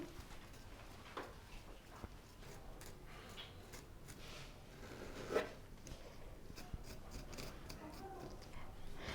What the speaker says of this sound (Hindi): सेंटर से हम इसको इस तरीके से काट लेंगे।